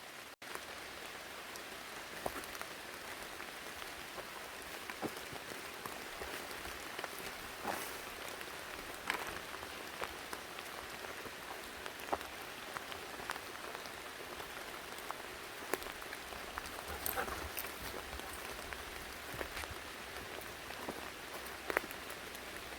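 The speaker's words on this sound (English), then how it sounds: "but it is pouring." Heavy rain pours through a forest of big hemlocks, a dense, even hiss of drops on leaves and ground with scattered sharper drips, steady and unbroken throughout, no talking.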